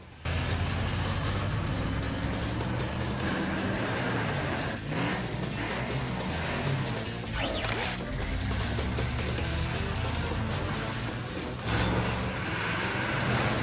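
A vehicle in a Teenage Mutant Ninja Turtles cartoon driving with a loud, continuous engine rumble and road noise, with brief clanks and whooshes layered over it.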